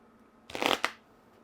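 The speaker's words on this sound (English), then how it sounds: "I feel like your shuffling is incessantly loud." A quick riffle shuffle of playing cards during a Jaipur board game, one short close crisp burst lasting under half a second in a quiet room.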